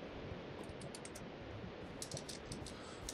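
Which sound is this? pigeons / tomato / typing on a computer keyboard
typing on a computer keyboard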